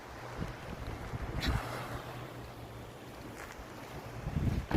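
Gentle sea breeze on a blue Oman beach between sea and mountains, heard as a soft, steady low wind rumble on the microphone with faint surf behind it and a couple of brief gusts; no one speaks.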